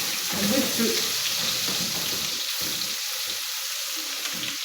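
Garlic sizzles in a pan after browned onions, a steady loud frying hiss over the whole stretch with some stirring noise underneath.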